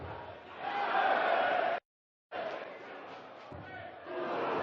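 Crowd noise from spectators at the 2018 Austrian Darts Open, a broad roar of cheering with a brief dropout in the middle, then resuming and rising again near the end.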